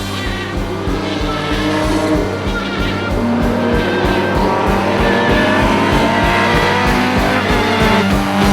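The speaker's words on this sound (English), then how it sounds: "this car won the national championship in 1968 with Don Devendorf driving" A vintage race car at a US vintage racing national championship event at COTA, its engine droning loud and steady throughout with a pulsing low rumble and rising and falling pitch.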